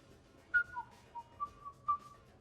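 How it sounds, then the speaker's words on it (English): A clear whistled tune of several short sliding notes from the video game Mass Effect 3, played alone over a quiet background. "Are you whistling?"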